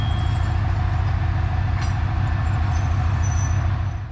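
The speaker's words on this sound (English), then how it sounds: "As all railways in Kyrgyzstan are unelectrified, we'll be requiring a diesel locomotive from here." A 2TE10V diesel locomotive on Kyrgyzstan's unelectrified railway gives a loud, steady, close-up engine rumble with a regular low throb that holds without pause.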